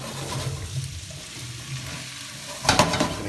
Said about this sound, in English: Just going to give that a big mix up.